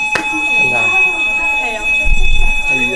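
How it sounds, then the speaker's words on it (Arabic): A fire alarm rings continuously in a university building, a steady piercing tone held throughout under people talking nearby. "انذار حريق."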